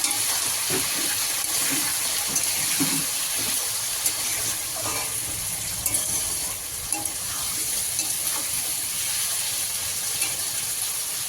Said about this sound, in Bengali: আলুটা লাল লাল করে পুরো ভাজা হয়ে গেছে